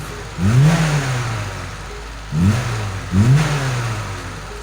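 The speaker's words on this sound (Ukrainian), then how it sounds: "обороти не падають, при тому, що навіть різко нажимаєш на газ" Car engine with its air filter box fitted, revved sharply three times, each rise climbing quickly then settling back to a steady idle, close and loud with no voices.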